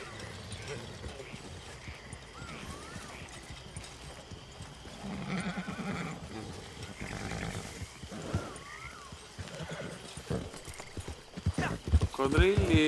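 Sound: horse galloping in Red Dead Redemption 2 video game

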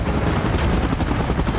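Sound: helicopter in video game PUBG Mobile

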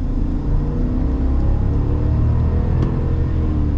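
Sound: 2024 Chevy Silverado ZR2 6.2 V8 accelerating

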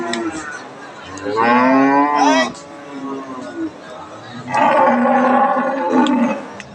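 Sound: Australian Friesian dairy cow mooing at cattle market

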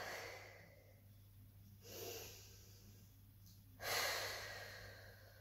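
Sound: deep breaths during Pilates relaxation

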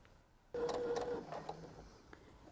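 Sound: sewing machine stitching a fabric table runner

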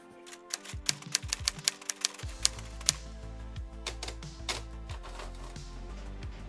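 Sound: typewriter typing

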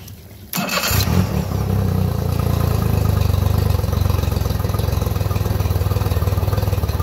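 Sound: Mercury 40hp four-stroke outboard motor running

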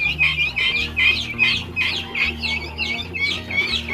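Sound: guinea fowl chicks chirping

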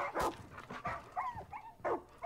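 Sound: dog barking in video game Far Cry 5

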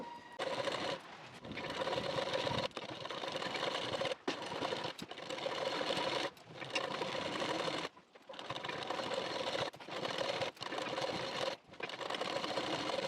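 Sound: sewing machine stitching neckband strip onto nightie

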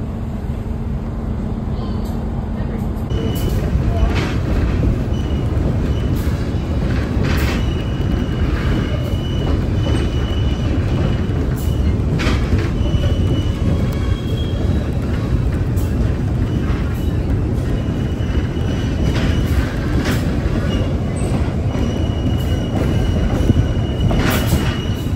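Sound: train ride on Big South Fork Railway, wheels squealing

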